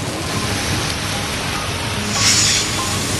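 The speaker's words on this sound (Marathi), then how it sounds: "विजांच्या कडकडाटासह भारती विद्यापीठ, कात्रज आणि आंबेगाव पठार भागामध्ये दमदार पाऊस झाला." Heavy rain pours steadily over the Katraj and Ambegaon plateau area of Pune, a dense loud hiss of downpour with a brief swell near the end; no distinct thunderclap stands out.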